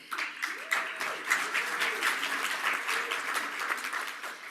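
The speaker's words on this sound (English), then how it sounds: "Let everybody give you a round of applause." An audience at an aviation fuel symposium keynote applauds in a crisp, steady round of clapping, moderately loud and near, with a faint voice briefly audible beneath it.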